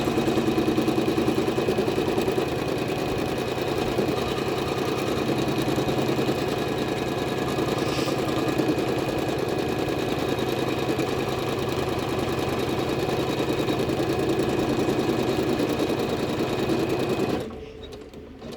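A computerized embroidery machine stitches a border outline on fabric for chenille letters, a loud steady rapid mechanical whir running continuously on its own before stopping abruptly near the end.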